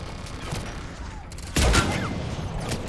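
Turret gunfire in the Mass Effect 3 video game, a steady roar of automatic shots that swells suddenly into a louder, closer burst partway through.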